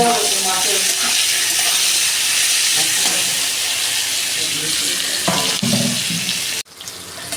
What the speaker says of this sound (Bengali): ফুলকপি লাল করে ভাজা হয়ে গেছে